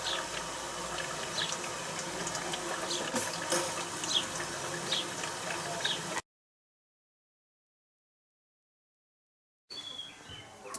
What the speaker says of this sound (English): You can definitely hear water running in there.